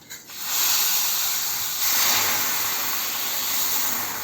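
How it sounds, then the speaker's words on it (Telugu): Tempering spices drop into hot oil for a Ceylon spinach curry and set off a loud, continuous sizzling hiss that holds steady for several seconds with no talk. "పోపు వేసేసుకుందాం."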